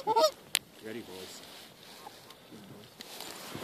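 Geese honk in a few loud nearby calls during a waterfowl hunt, followed by a gunshot crack and more scattered honks farther off.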